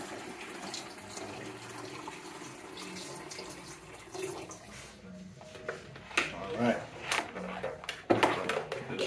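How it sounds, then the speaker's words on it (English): Tap water runs and splashes into a Honeywell humidifier's plastic tank, faint and close, with clunks and handling knocks toward the end as the tank is filled. "we're gonna fill it up with water"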